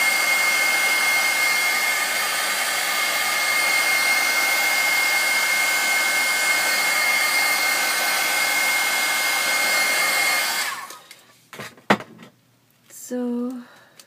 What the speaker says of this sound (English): I'm just blow drying it a little bit here just to hurry it up.